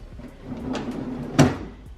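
A kitchen drawer slides open, with soft rolling runners and a sharp knock near the end of its travel, close and fairly quiet, without speech.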